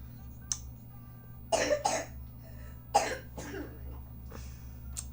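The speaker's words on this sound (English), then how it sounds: "She has this little cough going on right now." A child gives a few short coughs in separate bursts, fairly close, with quiet pauses between them and a low steady hum underneath.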